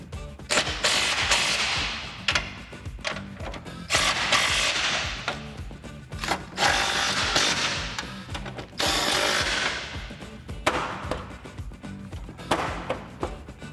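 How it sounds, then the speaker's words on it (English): An impact wrench with a 21mm socket tightens bolts on a Ford F150 bumper. It fires repeated loud rattling hammer bursts at close range, separated by short pauses, with no talking. "take your 21mm socket on your impact and tighten everything down"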